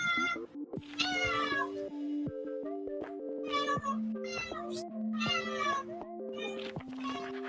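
A cat in a room meows repeatedly and close, with several drawn-out cries in a row over a steady bed of tonal background music.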